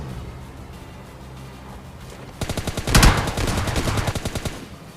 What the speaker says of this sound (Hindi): पर यहाँ पे फायर आता है देखो